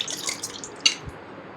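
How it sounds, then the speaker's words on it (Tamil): Soaking rice for Chennai-style chicken biryani, in a pot of salted water with coriander and mint, bubbling at a boil; soft irregular pops and drip-like blips over a steady quiet hiss, no voices. "இப்போ ஒலை நல்லா கொதிச்சிருச்சு"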